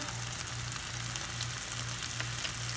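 Vegetables frying in butter in a pan as garlic goes in, a close, even sizzle and crackle with a soft repeating tap underneath.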